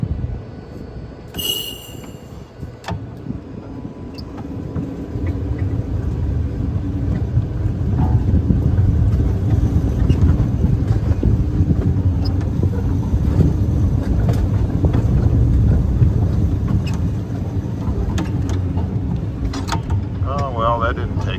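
Small rail vehicle riding along the RRVT railway after winter, a continuous loud rumble of wheels on track with a brief high squeal near the start, and a voice talking at times over the noise.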